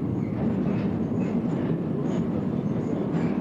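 A Soviet metro train runs with a constant low rumble and rattling wheel noise. It is steady and fairly loud, with no voices.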